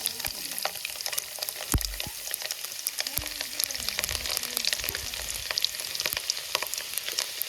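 Chopped garlic frying in hot oil in a pan, a soft even sizzle dotted with sharp crackles and occasional stirs of a spoon against the metal.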